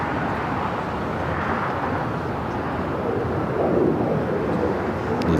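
A Japan Airlines Boeing 787-9 Dreamliner in oneworld livery takes off from LAX, its engines a steady broadband roar heard at a distance, swelling slightly toward the end.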